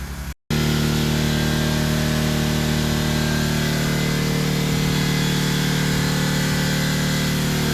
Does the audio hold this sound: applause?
no